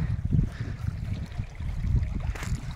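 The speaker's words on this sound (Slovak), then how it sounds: "To nám žbonkoce potôčik." A small brook burbles and trickles close by, its uneven gurgling water rising and falling in irregular pulses with no voices over it.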